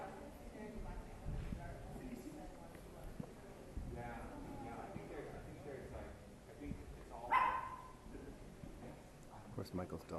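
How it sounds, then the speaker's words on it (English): A dog at a theatre rehearsal gives a few barks and yips, with one sharper bark standing out. Voices talk throughout the room and are often louder than the dog. "Of course, Michael's dog is here too"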